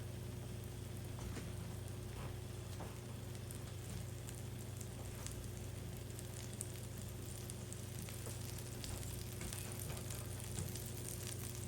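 Squares of butter melting on a hot pan with an everything bagel: a steady, close sizzling hiss that continues evenly throughout with no talking.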